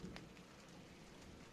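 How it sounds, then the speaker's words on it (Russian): Light drizzle begins to fall outdoors during a thunderstorm with thunder but little rain, a very faint, soft, even patter of drops. "Ну, вроде дождик начинается."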